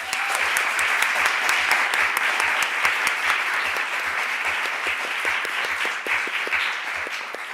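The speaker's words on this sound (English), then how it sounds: "please join me in giving another round of applause to all the award recipients" An awards-ceremony audience claps for student excellence award recipients, dense and loud sustained applause filling the room, steady from start to finish.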